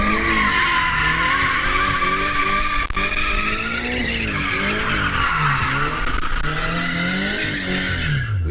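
Tires squeal and skid loudly and continuously as a car drifts on a track, the wavering screech rising and falling with the slide over a steady engine drone.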